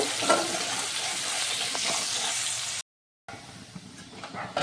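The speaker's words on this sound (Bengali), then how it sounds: "আর দিয়ে দেবো পেঁয়াজ কুচি। একটু নেড়ে ছেড়ে নেব।" Chopped onion with a few whole dried red chillies sizzles in a pan as it is stirred, giving a steady, fairly loud hiss that cuts out briefly and then resumes less evenly.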